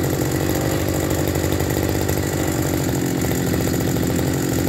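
Robin 302 brush cutter, a Japanese-made used unit, engine idling steadily and loud up close, a continuous buzzing two-stroke drone with no talk over it.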